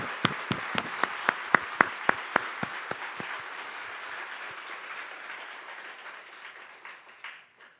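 A church congregation at a Korean-Chinese bilingual Sunday service claps in a few sharp, loud, evenly spaced unison beats before the clapping thins into a softer scattered patter that fades away.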